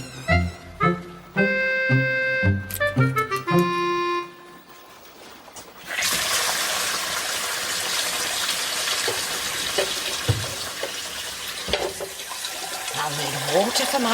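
A kitchen tap runs hard for the last eight seconds, a loud, steady gush of water that follows a short stretch of bright music and a brief quiet moment.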